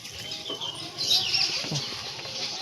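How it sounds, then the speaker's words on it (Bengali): Pigeons enter their loft with soft cooing and faint flapping and rustling close by, over a low murmur of background noise. "এই পায়রা ঢুকছে, এই দেখো এই দেখো দেখো, আমার পায়রাগুলো এইখানে আছে"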